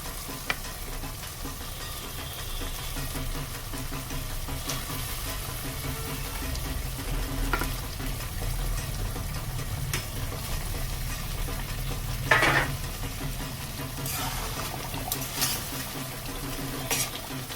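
Fish slid into a hot pan of spice paste for a Bengali Durga Puja dish, sizzling and crackling steadily for a long stretch, with occasional clinks and scrapes of a utensil against the pan.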